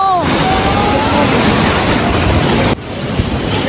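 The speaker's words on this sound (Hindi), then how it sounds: "यहाँ पर पानी का बहुत शोर था जिसकी वजह से मेरी अपनी आवाज़ जो है ना मुझे खुद सुनाई नहीं दे रही थी" Roaring water at Manthoka waterfall, a loud, dense, continuous rush close by with heavy wind buffeting the microphone, briefly dipping near the end.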